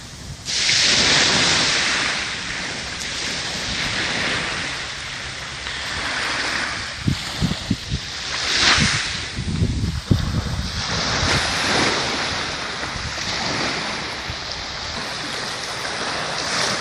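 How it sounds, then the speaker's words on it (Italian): Sea waves wash onto the public beach at Catania, a steady broad surf roar with wind buffeting the microphone and a few sharper low thumps midway, continuous and close. "Vi lascio con le immagini del mare dalla playa di Catania"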